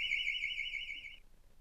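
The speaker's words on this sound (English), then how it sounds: "If a thief tries to remove the battery, the alarm will be sounded" A TruckMinder truck anti-theft alarm sounds a single loud, steady high-pitched electronic tone for just over a second, then cuts off, leaving quiet.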